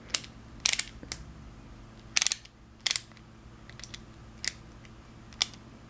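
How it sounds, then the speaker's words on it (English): A ratcheting screwdriver from a computer repair toolkit, giving sharp, separate clicks and short bursts spaced irregularly over several seconds, close and crisp against a quiet background. "which it looks like it is a ratcheting screwdriver"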